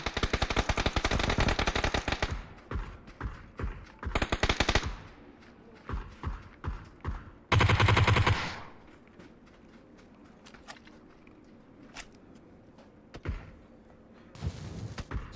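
Gunfire exchange in a shooter video game: loud bursts of automatic fire up front, then scattered single shots and short volleys at varying distances, and another loud burst near the end, with no talking.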